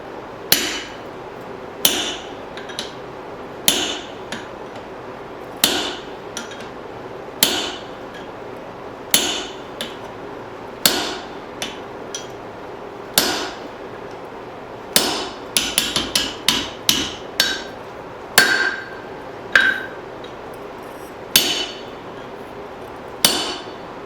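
A hammer forges a spring steel hatchet on an anvil, ringing out in sharp, close metallic strikes. The blows come at a steady, unhurried pace, then bunch into a quicker cluster midway before slowing again.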